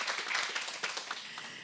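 An audience at a closing event on protecting places of worship applauds after a presentation, a soft, steady patter of many hands clapping that stays faint and distant throughout.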